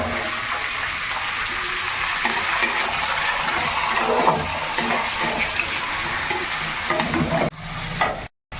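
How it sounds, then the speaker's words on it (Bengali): Potatoes fry in hot oil tempered with a dried red chilli, giving a loud, dense, continuous sizzle with occasional stirring, close up, before cutting out abruptly near the end. "চড়বড় করলে এখন আমি আলুগুলো দিয়ে দেবো।"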